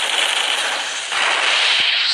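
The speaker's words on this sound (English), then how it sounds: "I'm a mini gun." A minigun in the Blox Fruits video game fires in one continuous, loud buzzing stream of rapid rounds, unbroken from start to finish.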